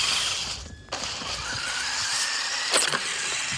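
A Mini E-Revo RC truck struggles up a snowy hill, its electric motor whining steadily over a continuous hiss of spinning tires, with a brief dip in the noise and a sharper burst of wheel spin near the end.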